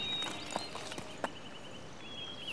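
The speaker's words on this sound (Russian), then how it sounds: "А ну, принимай коня." A horse's hooves clip-clop softly at a distance, a few sparse, faint knocks over a steady background hush.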